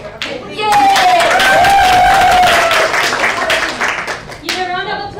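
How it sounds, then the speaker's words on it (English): An audience bursts into sustained, loud applause at a talk on pitching and following your passion, many hands clapping densely for several seconds with a few cheers and voices mixed in, then fading as a voice returns near the end. "So please give her a raving applause"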